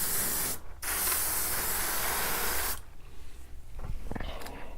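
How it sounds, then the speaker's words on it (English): Spray paint hisses into a garbage can in long, loud, close bursts, with a brief pause near the start and a longer break later followed by shorter sputtering sprays. "I'm spraying into the garbage"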